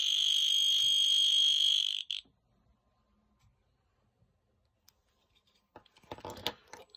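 A small 5-volt piezo buzzer wired into a K2 EMF meter chirps loudly and steadily for about two seconds, then cuts off, leaving near silence broken by faint handling clicks and rustling at the end.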